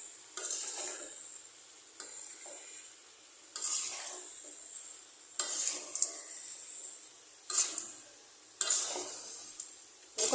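Caramel pickle is stirred in a pan with a utensil, making about six rhythmic scraping strokes every couple of seconds over a soft sizzle, close up with no talking.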